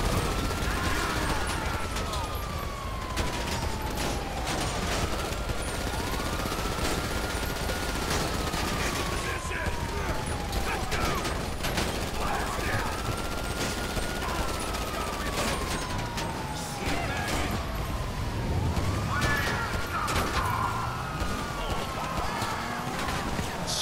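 Rapid gunfire bursts in GTA 5 crackle steadily through a dense, busy game mix, with siren-like sweeping tones rising and falling over the shooting and a voice speaking at times.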